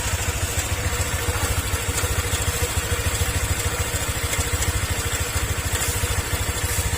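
Honda Click 125 motorcycle engine idling close up with a fast, even ticking knock riding on a steady low-pitched pulse, loud and alone throughout.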